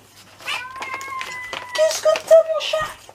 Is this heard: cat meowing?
yes